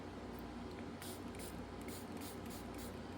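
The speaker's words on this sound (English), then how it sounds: "So giving it another spray with water." A series of short hissing spritzes from a spray bottle of water, several quick pumps in an uneven rhythm, close and fairly soft, with no talking.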